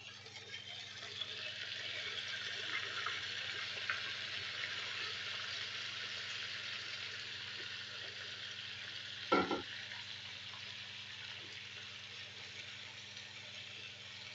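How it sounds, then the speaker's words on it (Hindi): Marinated mutton goes into golden-browned fried onions, a continuous close sizzle of frying that holds steady for the whole stretch, with one brief clunk partway through. "ब्राउन हो चुका है तो अब यहाँ पे डालेंगे हम अपना मैरिनेट किया हुआ गोश्त।"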